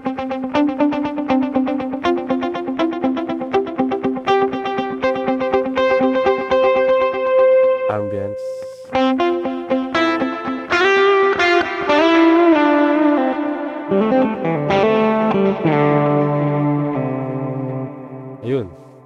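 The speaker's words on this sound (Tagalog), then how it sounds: "Try natin tong Infi delay." An Ampero II guitar processor running its Infi delay, with electric guitar notes and chords repeating in long, stacked echoes that wash together into a sustained, distorted tail, loud and continuous with no talk.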